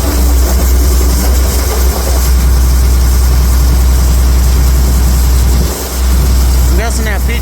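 A farm tractor hauling corn, its engine running loud and close with a deep steady drone and shaking from a wobbling PTO shaft, with someone talking over it.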